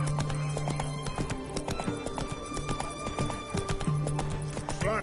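Roach, a horse in the video game Witcher 3, gallops with rapid, close clip-clopping hooves and lets out a whinny. Game sounds and faint voices are mixed in underneath.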